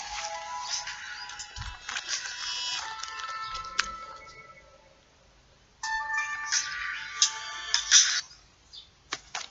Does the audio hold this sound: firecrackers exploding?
no